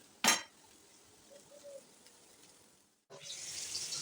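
Tap water splashes into a sink as leafy greens are washed in a home kitchen, with a short burst early on, then a quiet gap with a faint clink before a strong steady flow resumes.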